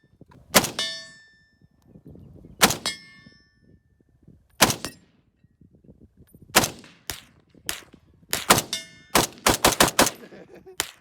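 Imbel FAL rifle firing at an outdoor gun range: loud, sharp cracks, single shots spaced apart early on, then a faster irregular string of about ten shots near the end, each ringing briefly with a metallic edge.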